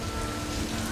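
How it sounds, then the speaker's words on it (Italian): Hailstones pelt a car in a hailstorm at Cesenatico, a dense, continuous hiss of rapid impacts drumming steadily and loudly without any pause. "chicchi di grandine della Madonna."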